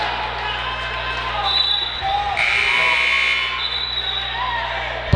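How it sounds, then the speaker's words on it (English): A long electronic buzzer sounds in a gym at a varsity basketball championship game, a sustained tone of a second or so over steady crowd noise and commentator speech. "Buzzer actually went off."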